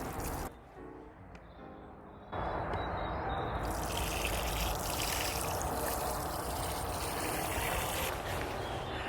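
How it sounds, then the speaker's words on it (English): Water poured onto potato plants growing in containers, a steady close splashing rush that starts after a brief lull and continues without pause. "Once in their final position, you can just water them."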